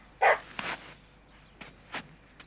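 A dog gives a few short barks at close range, one sharp bark first followed by several softer yips spaced across a couple of seconds.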